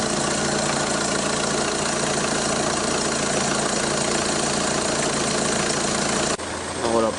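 A Citroën Xsara Picasso HDI 90 hp diesel engine idles just after starting with a steady, rough, knocking clatter, close and loud, shifting abruptly near the end as a voice briefly speaks.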